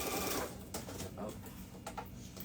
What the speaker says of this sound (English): I'm just gonna sew this down on the edge of the binding.